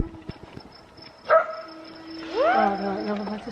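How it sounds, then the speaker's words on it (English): A puppy gives a single short yip, then a rising, whining bark, fairly close at a lakeside on a fireworks night, with faint background noise and a voice nearby. "Puppy barking."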